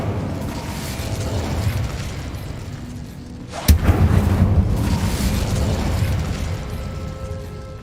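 The Incendio fire spell in Hogwarts Legacy bursts with a sharp crack followed by a whooshing, roaring rush of flame over a steady ambient rumble.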